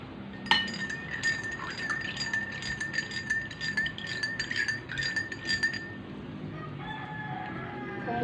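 A spoon clinks repeatedly against a glass while stirring a tomato and mango mixture for a vitamin test in a biochemistry lab, a rapid series of bright taps lasting several seconds, then stopping with a faint background hum.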